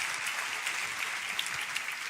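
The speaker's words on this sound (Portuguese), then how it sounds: "pode dar salva de palmas" Steady, dense applause from a church congregation fills the whole stretch, an even wash of many hands clapping at once, fairly distant and without a clear break.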